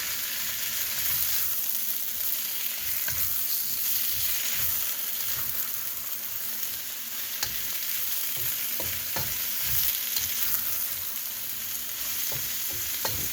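Onions sauté in a hot pan with a steady broadband sizzle, while a utensil stirs them in irregular scraping knocks throughout, close and alone with no talking.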